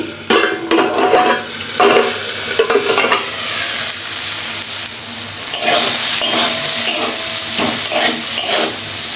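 Vegetables with peas and rice fry in a hot pan for a tiffin dish, a steady loud sizzle broken by frequent scraping stirs, with no voices.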